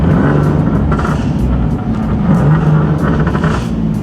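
A turbocharged Nissan 370Z with a boost leak accelerates hard, its engine roaring loud and close in a steady, unbroken pull with no voices.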